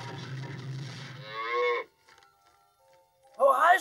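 A cartoon cow in a Smurfs episode moos twice, a long low call up front and a shorter rising moo near the end, with a quiet gap between.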